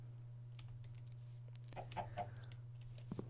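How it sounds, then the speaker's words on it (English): Minecraft chickens cluck softly in a blocky farm pen. A few short clucks cluster near the middle over a steady low hum, with light keyboard clicks and no talking. "So chickens over here."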